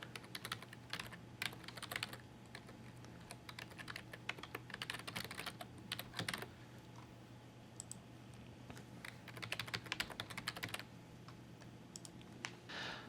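Fingers type a username and password on a computer keyboard, quick clusters of close, light key clicks with short pauses, heard alone.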